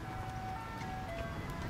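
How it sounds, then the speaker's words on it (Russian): A faint ice cream truck jingle drifts from far off across a park in the USA, a thin steady melody under broad outdoor background noise. "Ты слышишь трак мороженого?"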